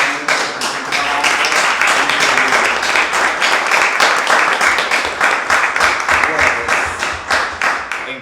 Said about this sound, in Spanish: pido un aplauso nuevamente porque es un trabajo